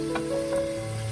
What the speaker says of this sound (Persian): سینه های مرغمون رو داخل روغن سرخ